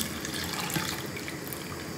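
Water pours steadily into a cooking pot in a home kitchen, a continuous splashing rush lasting the full two seconds with no talk.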